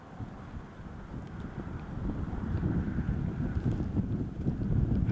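Wind gusts buffet an outdoor microphone on a disc golf course during a charity tournament round, a steady low rumbling roar that grows louder and stays continuous with no talk.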